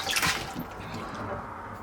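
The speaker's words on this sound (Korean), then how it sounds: "지금 고추를 씻고 있는데요." Chili peppers being washed in water while preparing kimchi seasoning, a short run of splashing and dripping close by, loudest at the start and then settling into a softer trickle.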